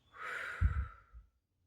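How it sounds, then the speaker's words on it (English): A single slow, deep breath drawn in and let out, close and soft, followed by a brief quieter exhale at the end. "let's take a deep breath in and out"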